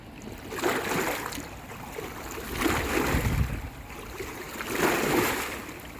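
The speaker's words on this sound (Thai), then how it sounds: "เสียงคลื่นนะคะ คลื่นกระทบฝั่ง" Waves wash in and break on a Norwegian shore in slow, rolling surges, each swelling and fading, heard steadily with no voices.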